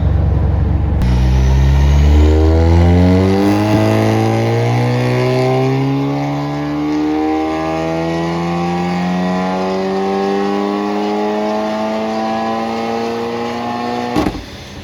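A loud tuned Golf R engine running ethanol revs hard on a dyno and climbs steadily through the gears in one long sustained pull, rising in pitch before cutting off abruptly near the end.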